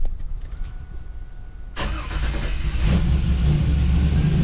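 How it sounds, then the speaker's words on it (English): A modified Chevrolet Camaro SS engine cranks and fires up in a shop after a quiet stretch, then settles into a loud, deep, rumbling run close to the listener. "So we'll go ahead and start her up."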